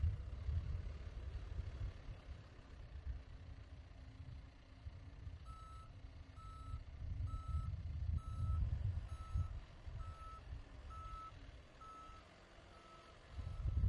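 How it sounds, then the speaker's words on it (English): A John Deere backhoe's backup alarm beeps in a steady, evenly spaced series of about ten tones over the low rumble of the idling engine, heard at a moderate distance. "The backup alarm alerts bystanders that your machine is changing directions."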